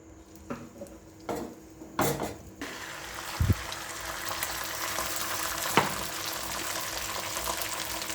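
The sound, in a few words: egg toast frying in a pan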